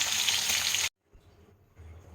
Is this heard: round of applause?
no